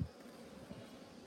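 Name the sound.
honey bees buzzing around brood in a hive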